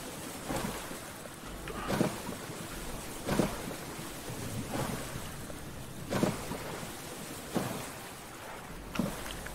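Thunderstorm in a castaway video game, steady heavy rain with repeated rumbling thunder bursts about every one to two seconds, continuous and fairly loud with no voices.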